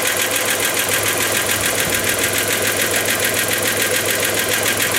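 The engine of a 1991 Dodge Caravan after a fuel pressure fix runs at a steady idle with a constant mechanical drone and fast rhythmic ticking, close and loud without any talking.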